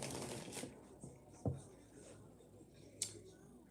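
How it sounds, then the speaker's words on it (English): Playing cards are shuffled quietly at close range in soft riffles, with a few sharper snaps and taps standing out, during a live card-reading session. "shuffling for April when it comes to Dev and G."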